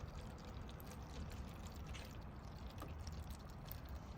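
Water is poured from a pitcher into activated yeast for a garden fertilizer, a faint, soft steady trickling and splashing heard alone.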